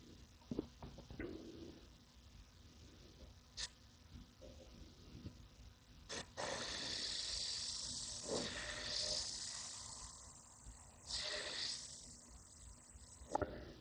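An airbrush sprays at full pressure of about 30 PSI in intermittent bursts of airy hissing, with quiet handling noises and brief faint sounds between the sprays.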